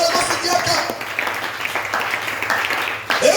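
A congregation at a church service applauds with dense, sustained clapping filling the room for a few seconds, loud and close, with cheering voices mixed in.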